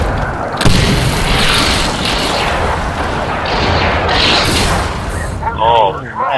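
Mortar blasts in the multiplayer video game Medal of Honor Warfighter land as a loud initial boom followed by sustained rumbling explosions and crackling, close and heavy, with a voice speaking over the chaos near the end.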